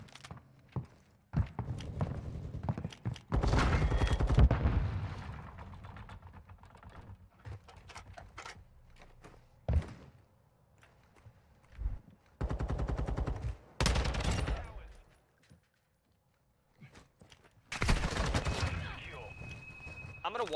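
Bursts of rapid gunfire from a ranked online shooter match, loud automatic volleys separated by short pauses and single sharp shots, with a voice talking over parts of the action.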